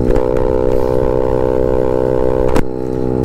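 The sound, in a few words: scooter engine exhaust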